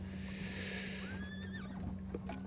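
A cavalry horse in the Wargame Design Studio game War of the Austrian Succession gives a single high whinny with a rising, wavering pitch, fairly clear over a low steady hum, followed by a faint clop.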